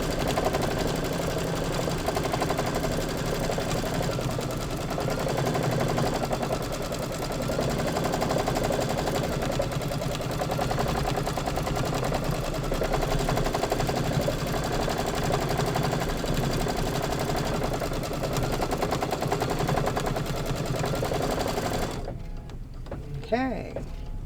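A sewing machine runs almost continuously while a quilt block is stitched together, a steady close mechanical hum with slight rhythmic variation, stopping abruptly near the end.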